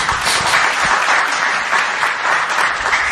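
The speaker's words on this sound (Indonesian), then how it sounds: "Boleh tepuk tangan buat Tuhan Yesus." A church congregation claps loudly and continuously in praise during a sermon. The applause is thick and close and holds at steady full volume throughout.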